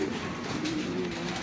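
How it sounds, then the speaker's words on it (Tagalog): A pigeon coos in a low, soft, repeated warble, close by, with faint background hiss. "Malakas talaga kong ibon na ito"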